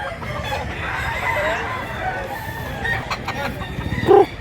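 A rooster crows among other chickens at a fowl market in Mantalungon, Cebu, a short loud crow near the end over clucking and background chatter.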